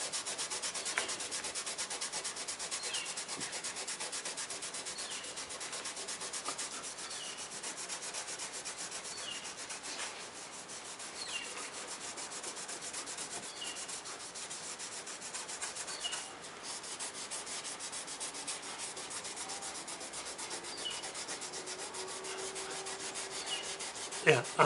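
Hand rubbing on the painted body of a 1998 Ford Contour during detailing, a continuous soft abrasive scrubbing with faint scratchy strokes, close but quiet, with no talk.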